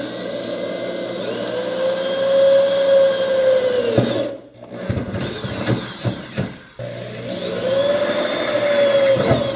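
A power drill bores mounting holes for a radio support bracket under the dash of a classic car, a steady loud whine broken midway by short stops and restarts before running again.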